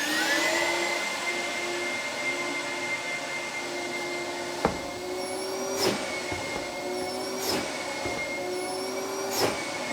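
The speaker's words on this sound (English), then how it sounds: "We'll go switch on the dust extractor and you can see just how good this thing actually works." A workshop dust extractor hums steadily on its own for the full stretch, a constant loud drone with a few brief knocks and clunks of the blast gate ducting standing out over it.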